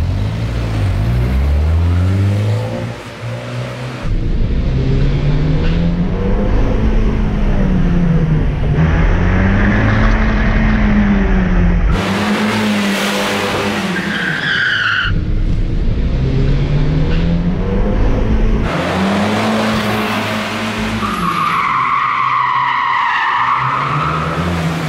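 A car is driven hard around a small go-kart track, its engine revving up and down in waves while the tires squeal through long, loud skids, close and continuous with no talk.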